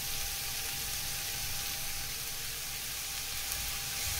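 Onions sautéing in a pan, a steady close hiss and sizzle that stays even throughout with no talk over it.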